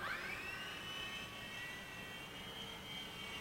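A high, steady whine of a small motor with rotor hum that rises in pitch and holds, sounding like a model aircraft lifting off and hovering.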